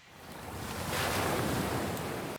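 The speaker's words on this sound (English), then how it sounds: "ocean waves" A short ocean waves sample used as an effect in an electronic music track swells in as a broad wash of surf, rising and holding steady before cutting off abruptly.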